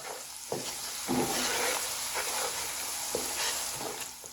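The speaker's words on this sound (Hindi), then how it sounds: "साथ ही वो मसाले भी फ्राई हो जाएंगे, अदरक लहसुन भी साथ ही।" Steady frying sizzle of ginger, garlic and spices for chicken pulao, with occasional stirring scrapes in a pan, a continuous hiss close by with no talking.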